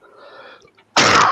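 One loud, abrupt sneeze bursts out near the end, preceded by a brief faint breathy intake; close and forceful, with nothing else around it.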